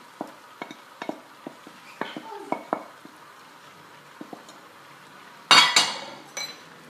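Chicken stirred into a mash bean stew in a pot, a series of light spoon clinks and taps against the pot with a soft sizzle underneath, then a louder clatter near the end, a voice speaking briefly.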